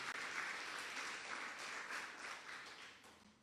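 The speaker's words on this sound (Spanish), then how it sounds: "Den un aplauso al Señor." Congregation clapping during a church worship service, a steady wash of applause sustained and fairly faint throughout with no talk over it.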